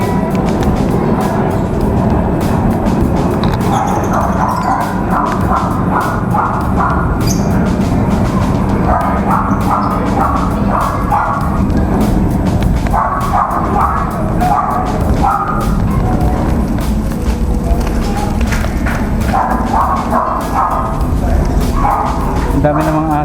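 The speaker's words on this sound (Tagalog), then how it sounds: "Ang dami namang aso dito sa inyo" Several dogs bark repeatedly in the background over a steady, loud noise bed, with occasional yips.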